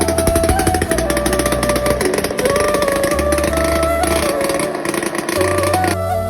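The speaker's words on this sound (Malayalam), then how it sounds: "ഒന്ന് സ്റ്റാർട്ട് ചെയ്തപ്പോൾ സൈലൻസർ ഇല്ല, അതുകൊണ്ട് നല്ല സൗണ്ട് ഉണ്ട്." Kinetic Honda scooter engine running with no silencer, a steady loud buzzing drone close by with uneven throttle pulses throughout.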